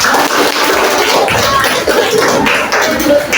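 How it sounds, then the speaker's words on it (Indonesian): A class of students at an Islamic senior high school (MA) claps together at the end of a lesson, giving a dense, continuous patter of applause that fills the whole moment at steady loudness. "Kita bisa tepuk tangan untuk kita semua ya."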